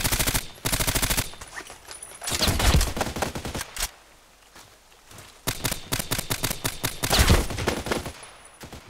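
Bursts of rapid automatic gunfire in the shooter game Contract Wars on the Lake map, loud volleys separated by a brief lull, with a sharp single shot in the middle and heavy firing resuming afterward.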